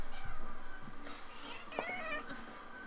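A house cat gives a brief meow midway through, heard over a steady background hum and faint talking.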